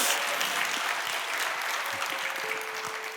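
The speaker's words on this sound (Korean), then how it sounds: "박수 한번 주시죠." A church youth congregation applauds at a worship service, sustained even clapping filling the room at moderate level, with faint speech underneath.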